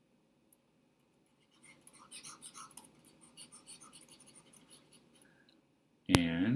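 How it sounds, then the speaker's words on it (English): Marker or eraser rubbing across a whiteboard in a physics lesson, a run of short scratchy strokes in a quiet room, followed by a brief loud noise at the end. "So let's just erase that."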